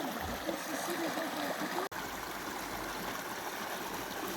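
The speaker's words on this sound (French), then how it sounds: "Écoutez ça, le bruit de l'eau." A stream flows under a small bridge in a steady, close rush of running water, continuous and broadband, with no voices.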